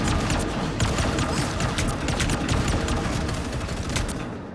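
Rapid bursts of gunfire from the video game Rivals crackle densely and loudly throughout, shots overlapping in quick volleys before tapering slightly at the end.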